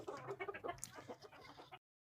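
A white hen clucks in a coop, a string of soft, close, rhythmic clucks and short calls that ends abruptly.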